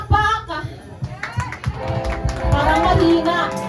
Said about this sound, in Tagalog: Mga palakpakan para kay Jesus.